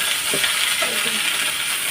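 Fried small shrimp with cauliflower, pumpkin and potato being stirred in a hot pan: a loud, constant sizzle with a few soft scraping stir sounds.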